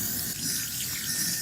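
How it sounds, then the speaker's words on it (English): Water pours steadily from a tap or hose, rinsing the soil off the leaves of a transplanted pepper plant in a bucket, a continuous close hiss and splash. "rinse it down with water to wash off all the dirt off the leaves"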